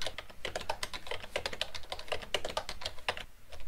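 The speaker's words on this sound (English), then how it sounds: "I'll just demonstrate here by typing in some text." Text being typed on a computer keyboard: rapid, uneven clicks of individual keystrokes, close and crisp, continuing steadily with brief pauses and no talking.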